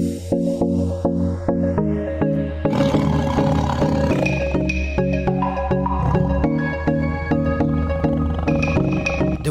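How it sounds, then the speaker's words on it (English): A large white tiger, up to 300 kg, gives a series of deep, harmonic roaring pulses in a steady rhythm, loud and close, with no voices over it. "The white tiger is a big and strong creature that weighs up to 300 kgs"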